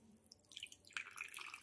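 A water tap opened only slightly trickles and drips softly into a sink while a small child brushes her teeth, faint, close and intermittent, with no voices.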